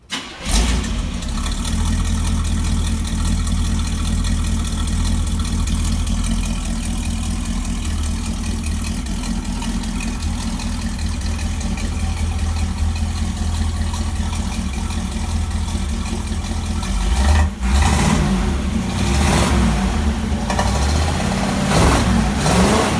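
A 1968 Chevrolet Camaro SS with a big-block engine runs with a loud, steady mechanical rumble, then surges near the end as the engine is revved, close by with no talking.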